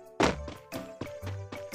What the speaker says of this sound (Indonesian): Itu bunyi ledakan